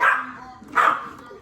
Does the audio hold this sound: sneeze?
no